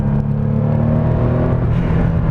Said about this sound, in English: when you have a Porsche plus that boost noise, oh, it's a very nice thing, isn't it?